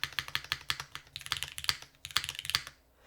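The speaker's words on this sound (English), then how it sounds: "I kind of like this spacebar. Like, it sounds kind of unique" Fingers type quickly on a mechanical keyboard, the Tiga by Machina, fitted with a GMK spacebar, producing crisp, close clacks in a fast rhythm with deeper spacebar thocks and no voices.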